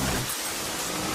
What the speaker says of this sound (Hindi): माथुर, इतनी बारिश में प्रोग्राम कैंसिल नहीं कर सकते थे।